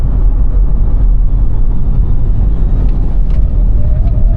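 Rivian R2 Performance electric car cornering hard on a race track, a steady loud broadband rumble of road and tire noise with faint motor whine, no talk.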